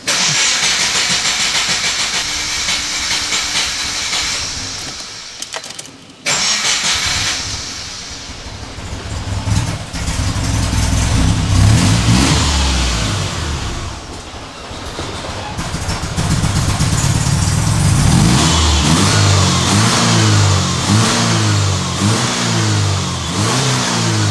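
A 2006 Subaru Impreza engine cranks and catches, then runs and revs up and down, loud and close with a hissing edge.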